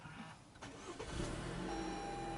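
A 2020 Toyota RAV4 XLE starts by push button: a brief starter whir, then the engine catches and settles into a steady idle, heard up close from inside the car.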